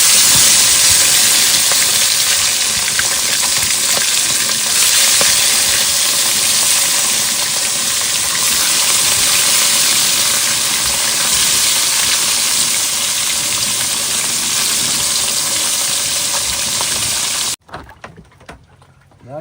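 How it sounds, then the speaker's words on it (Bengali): Large fish dropped into hot oil fry with a loud, steady broadband hiss and crackle, close and continuous, cutting off abruptly near the end. "তেল গরম হয়ে গেছে এবার মাছগুলো দিয়ে দিলাম"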